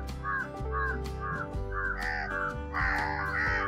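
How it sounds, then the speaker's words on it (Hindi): Several crows caw repeatedly in a village as they gather to eat leftover rice put out for them, harsh calls coming in quick overlapping bursts, fairly close and clear with no one speaking. "देखिए गाइस कौवों का आना शुरू हो चुका है"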